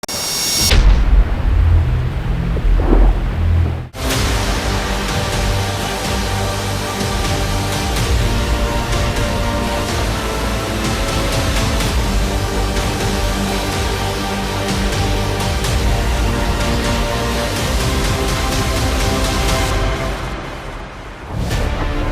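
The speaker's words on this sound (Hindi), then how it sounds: "यहाँ पर भी तेज हवा इतनी चल रही है" Strong cyclone winds from Cyclone Biparjoy roar loudly and continuously, a dense rushing blast that starts after a brief quieter moment and holds steady throughout.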